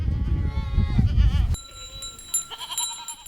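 Goats and sheep of Bedouin nomads in the Jordanian desert bleat loudly and close up in wavering cries, then the calls fade into quieter, thinner sounds from the herd.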